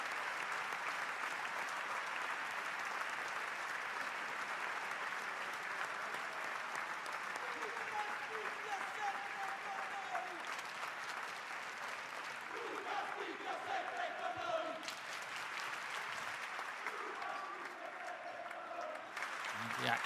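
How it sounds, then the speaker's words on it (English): Sustained applause from a large crowd at a Basketball Champions League game, steady and dense throughout, with an announcer's voice talking over it. "Final applause."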